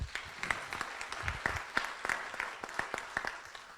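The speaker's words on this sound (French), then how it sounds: "Donc on l'applaudit bien fort." Scattered applause from an audience at a round-table debate on elected officials and disinformation; a modest crowd claps with distinct, uneven individual claps rather than a dense roar, fairly close.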